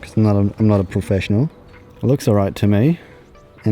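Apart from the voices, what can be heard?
None of the usual background noises is heard.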